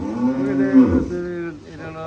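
A dairy cow lows on a milk-cow farm, a single drawn-out moo that rises and falls, loud and close, followed by quieter farm noise.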